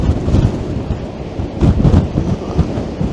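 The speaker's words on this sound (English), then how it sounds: "very, very windy" Strong wind on a seaside promenade buffets the microphone in a loud, rumbling roar with gusty surges and low thumps, and no voice is heard.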